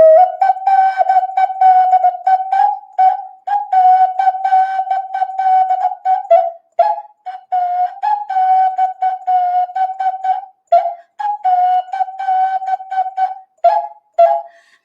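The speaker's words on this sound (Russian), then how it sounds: "На свистульке можно нам проиграть мелодию, не мелодию, а ритмическую основу мелодии «Светит месяц»." A clay toy whistle, a svistulka, plays the rhythm of the Russian folk song Svetit Mesyats: a steady single-pitched shrill tone pulsed in short and long bursts, loud and close, with no talk.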